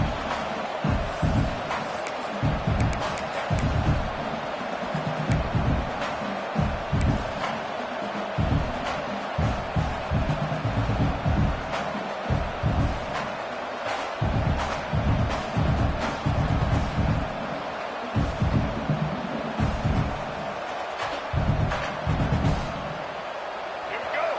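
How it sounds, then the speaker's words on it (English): A large football stadium crowd at a UCF versus Maryland game roars steadily as the defense holds near the goal line, sustained cheering under continuous commentary, with sharp bursts of noise and slams throughout. "this big crowd doing everything possible to inspire this defense down here near the goal line"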